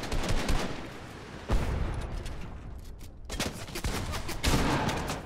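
Gunfire rattles in a shooter video game, with dense bursts of rapid shots and sharp cracks. The fire starts, pauses briefly, then returns loud and close, with no talking over it.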